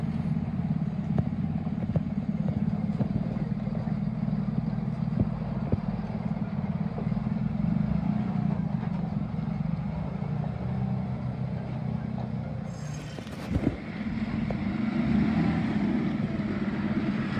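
MAN HX lorry engine running smoothly while driving, a steady low diesel drone with a brief louder clunk partway through.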